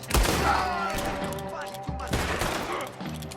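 Gunfire crackles in Red Dead Redemption 2, a loud fusillade of overlapping shots and thuds over a tense music bed, with a burst near the start and another around the two-second mark.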